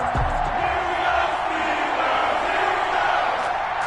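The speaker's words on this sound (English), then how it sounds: "This crowd is ready as their guys get set to match up between the Philadelphia Eagles and the Pittsburgh Steelers." A stadium crowd in an EA Sports NFL video game, Philadelphia Eagles against Pittsburgh Steelers, keeps up a steady, dense roar with no breaks.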